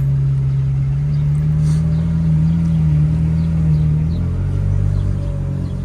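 Ferrari 458 Spyder engine idling and revving inside a garage, a steady low rumble with a rising, wavering tone that drops and settles near the end, continuous and close.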